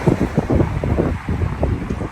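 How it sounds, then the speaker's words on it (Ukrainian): Strong gusts buffet the microphone in rough, uneven bursts, a loud rumbling wind with no other sounds, outdoors in Kassel, Germany, just after rain. "Вітрюган дує, добре, висушить її."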